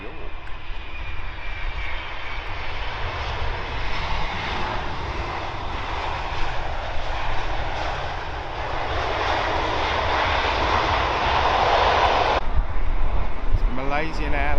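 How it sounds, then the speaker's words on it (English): A United Airlines Boeing 767 from Newark lands at London Heathrow, a sustained mid-distance jet engine rumble that grows gradually louder, with a voice talking over it. "United Airlines, Boeing 767. That is coming in from Newark, New York."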